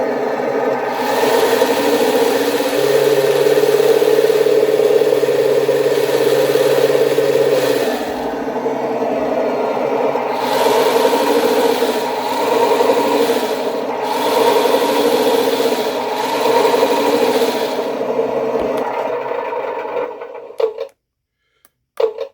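A 3D-printed 1/16 scale RC French M4A1 tank runs on a dry test, giving a steady electric motor whir with gearbox rumble that holds loudly, dips and surges a few times, then cuts out near the end.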